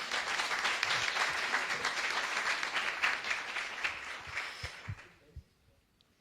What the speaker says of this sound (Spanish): Un aplauso para dar la bienvenida a Carmen.